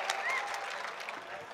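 Audience applause at a Hindi-Urdu shayari recital in Pune, a steady, fairly dense clapping sustained through the short stretch, heard from within the hall with a faint voice or tone briefly rising above it.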